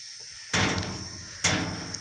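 A house door in a rural village home is pulled open on a rainy morning, giving two sharp, loud rattling clunks about a second apart, close by, with no talk.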